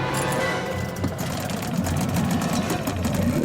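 Motorboat engine running, a steady buzzing mechanical drone with rapid rhythmic texture that continues throughout, with brief clanks and faint voices in the background.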